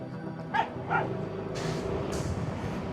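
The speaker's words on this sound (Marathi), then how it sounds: "कुत्र्यांची शाळा भरली वाटतं." Dogs bark on a mountain road near a hill village in the Himalayan region, two sharp close yips early on followed by continuous noisy ambience.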